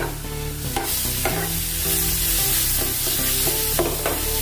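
Masala with dried red chillies fries in hot oil for an aloo and lauki sabji, a steady close sizzle broken by repeated scraping strokes of a spoon stirring the pan.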